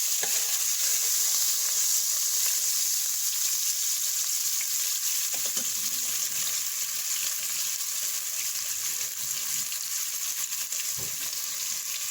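Black beans sizzle steadily in hot oil in a pan, a dense continuous frying hiss with occasional soft stirring scrapes and small pops, close and even throughout.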